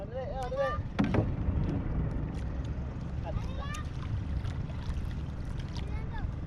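Paddled rowing boats race through water with splashing and wind noise, while voices shout and call out over the race.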